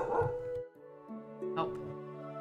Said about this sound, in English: Pardon the dog. I don't know what he's barking at.